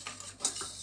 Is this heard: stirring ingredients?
yes